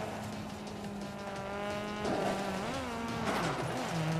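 A battered race car in a realistic racing video game, its engine droning steadily as tires squeal and skid in wavering, rising and falling whines, loud and without talk.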